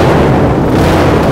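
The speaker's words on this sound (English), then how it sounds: "She popped and banged a few times and then died again" A Honda Dominator motorcycle exhaust popping and banging, a loud, dense burst of rough low booms that cuts off abruptly at the end.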